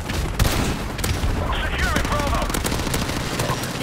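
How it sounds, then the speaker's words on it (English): Rapid bursts of video game gunfire from Call of Duty 4 Remastered, dense and steady throughout with sharp cracks over a busy battle bed. "randomly shooting. See what happens."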